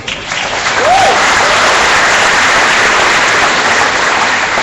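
During a sermon, an audience breaks into loud, full applause that builds within the first second and then stays dense and constant, a hissing wash of many hands clapping.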